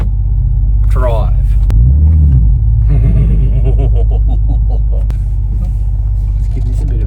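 A twin-turbo 3-litre V6 Ford Raptor engine rumbles loudly and steadily up close, with deep throbbing idle and a brief rev swell, while people talk over it.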